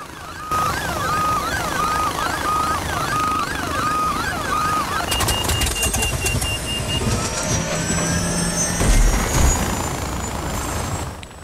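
Helicopter flying in the video game Far Cry 4, a steady loud rotor drone with mechanical whine, joined midway by sharper clattering and sweeping tones from the game.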